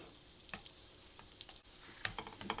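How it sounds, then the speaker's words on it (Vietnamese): Pickled mustard green cakes with a wheat-flour crust fry in a pan, a quiet steady sizzle broken by small crackles and pops. "Mình chiên đã vàng hết hai mặt bánh này nè."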